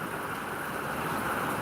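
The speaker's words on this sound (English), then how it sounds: "You can see the rain." Steady rain of the season's first shower in Gboko falls as an even, continuous hiss with no pauses, nearby and moderately loud, with no voices.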